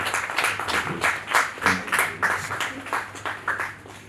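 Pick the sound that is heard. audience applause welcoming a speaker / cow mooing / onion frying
audience applause welcoming a speaker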